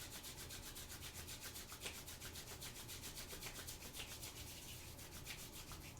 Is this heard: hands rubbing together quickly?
yes